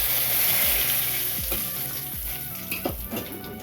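Crushed cinnamon, cloves and cardamom fry with two bay leaves in hot oil for a Bengali egg curry, giving a loud continuous sizzle with regular spatula strokes scraping the pan and no talking.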